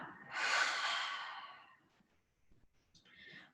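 A single slow, audible exhale during a beginner hatha yoga class, breathy and close, fading out, followed by a faint softer breath.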